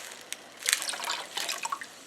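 Pink yarn dye is poured into warm water, making a short, close splash and trickle with a few light drips.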